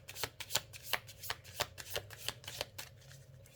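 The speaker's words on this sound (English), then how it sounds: "I'm gonna give one more good shuffle to this." Tarot cards being shuffled by hand, a close run of crisp riffling snaps in a quick irregular rhythm, loud and alone with no talking.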